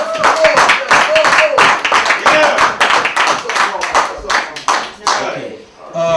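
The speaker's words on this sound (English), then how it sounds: "Let's give this brother a round of applause" Rhythmic hand clapping from a crowd at a live soul music performance in a New York City venue, uneven bursts of claps mixed with talking and cheering voices, loud and close.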